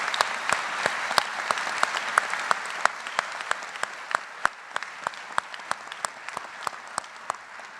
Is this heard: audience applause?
yes